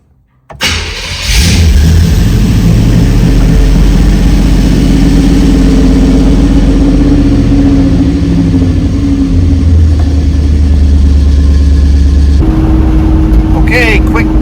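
A car with a Holley fuel injection system and Dakota Digital gauges cranks and starts after a brief silence, then settles into a loud, steady, close idle that continues throughout, with a voice talking over it.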